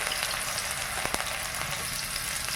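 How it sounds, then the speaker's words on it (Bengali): Onion dropped into hot oil with caramelizing sugar in a village kitchen, giving a loud, steady sizzle and frying hiss that runs unbroken throughout with no voices. "চিনিটা উঠতে শুরু করেছে এবার পেঁয়াজটা দিয়ে দিলাম"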